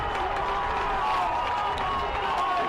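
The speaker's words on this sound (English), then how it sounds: "Hear their crowd. They've been waiting for that." Crowd at a high school lacrosse semifinal cheers after a goal, a steady wash of distant cheering and clapping that holds at an even loudness throughout.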